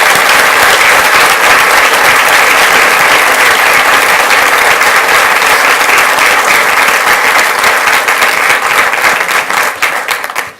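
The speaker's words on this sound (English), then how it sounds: "One more round of applause for everyone that was awarded tonight" Sustained loud applause at a Fort Worth ISD board meeting for the evening's award recipients, a dense, close wash of clapping that holds steady for about ten seconds before thinning out and stopping.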